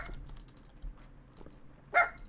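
A dog named Ginger gives a single short bark near the end in the horror game Danny's House, preceded by faint clicks and soft thumps in a quiet room.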